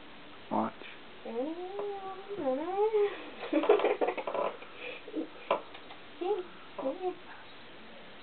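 A pet cat meows several times in drawn-out, wavering calls close by, with a few quieter chirps, and a person's voice comes in between the meows.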